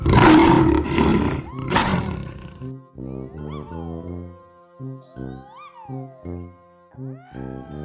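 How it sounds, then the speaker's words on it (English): The Metro-Goldwyn-Mayer lion, a real lion, lets out two loud close roars, followed by a bright chiming melody that continues alone. "The sound of the Metro-Goldwyn-Mayer lion's roar was recorded with a real lion named Jackie."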